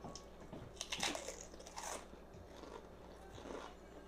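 A close, crisp crunch of teeth biting into a homemade shrimp egg roll, followed by a few chewing crackles, with no talking.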